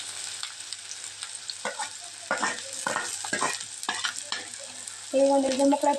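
Curry leaves frying in hot oil in a pan for an Indian curry, with steady close crackling sizzle and intermittent stirring scrapes that swell into a louder burst of spitting near the end, no talking.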